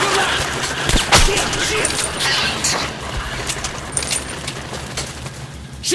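Gunfire in the video game Metro Last Light, scattered loud cracks and bursts over a dense, noisy game soundscape with shouting voices nearby.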